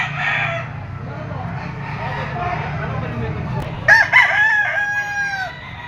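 Golden Boy Boston gamefowl rooster, three years old, crows once loudly near the end, following a stretch of background murmur and low traffic-like rumble.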